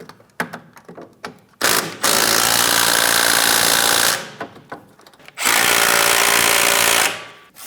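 Impact wrench snugging the bolts on a rear wheel hub and bearing assembly of a 2007-2014 Ford Edge, tightened in a crisscross pattern: two long, loud sustained bursts of tool whine with brief clicks and handling sounds between them.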